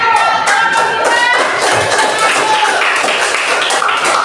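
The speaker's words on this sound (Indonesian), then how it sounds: "Ya, tepuk tangan ya." A classroom of students claps after a group presentation, a close, moderately loud patter of hands that continues throughout, with faint voices mixed in.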